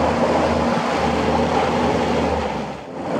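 A fishing speedboat engine drones steadily on the sea, a loud, close, continuous roar mixed with wind and water rush, dipping briefly near the end.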